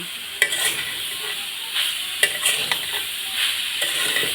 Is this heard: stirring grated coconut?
yes